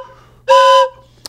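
A steam train whistle gives a single short, loud toot signal, steady and tonal for under half a second, standing alone against a low background hum.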